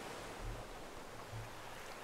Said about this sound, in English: I want the ocean to be rocking and rolling here